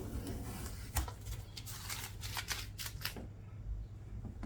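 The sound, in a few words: tape being peeled off a kayak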